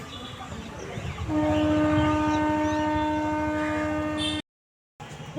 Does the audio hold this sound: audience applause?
no